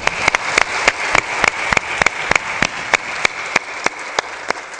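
Enthusiastic audience applause at a spiritual motivational talk in Badnawar, with sharp individual claps standing out above a steady, dense wash of clapping that continues throughout.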